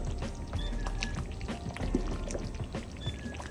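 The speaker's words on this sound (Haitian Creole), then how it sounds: "La loi bien bouillie là, bien laguée." Hot boiled water for rice and beans pours steadily close by, with a few small splashes and clinks of a pot under the flow.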